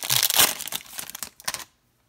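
Foil wrappers of 2019 Topps Series 1 baseball card packs being torn open, giving close, busy crinkling and ripping that fades out near the end, with no talk.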